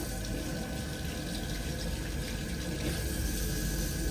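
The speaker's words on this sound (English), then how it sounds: "I quite like the water pressure from the faucet" Water streams steadily and forcefully from a faucet in a train's toilet compartment, making a continuous loud rush close by with no pauses.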